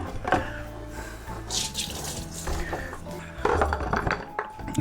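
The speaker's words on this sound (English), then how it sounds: "So I'll tip that out and we'll start filling up the fermenter." Liquid tipped out of a home-brew fermenter, with splashing, dripping water and light clinks of plastic or metal in short uneven bursts close by.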